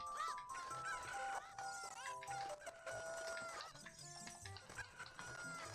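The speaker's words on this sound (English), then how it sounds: "Yeah, come back here, chicken." Chickens cluck and squawk in Zelda: Ocarina of Time Randomizer along with game sound effects. The fowl calls repeat quickly in a busy, lively run, and no one talks over them.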